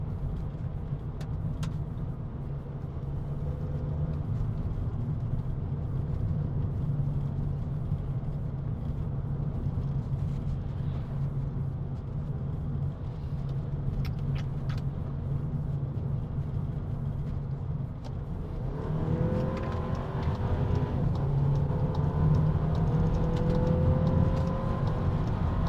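A 2024 VW Polo GTI cruises in Eco mode with a steady low engine drone and road rumble throughout, rising slightly in pitch and revs near the end as it accelerates.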